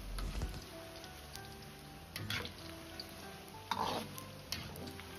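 Radish pieces deep-fry in hot oil over medium-low heat, a continuous fine crackling sizzle with occasional louder bubbling bursts, close up and alone.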